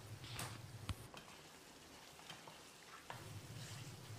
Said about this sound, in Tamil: ஸ்டவ்வில் தீயை குறைச்சி வச்சுட்டு 1 நிமிஷம் இதை நல்லா ஃப்ரை பண்ணி விட்டுடலாம்.